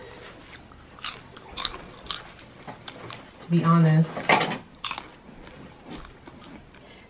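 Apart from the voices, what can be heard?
crunching while eating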